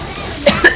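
A hero's ultimate in the mobile game Mobile Legends, heard as a short, close, loud cough: two quick bursts in under a second.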